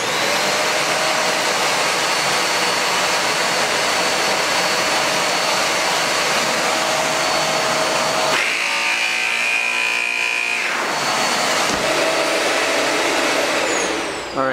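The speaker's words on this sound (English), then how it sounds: "you've got to make sure that the vacuum turns on, so I'll turn it on real quick." A Shark Rotator vacuum cleaner runs loudly and continuously, a harsh steady whine with a brief shift in pitch partway through as the airflow changes, then returning to full roar.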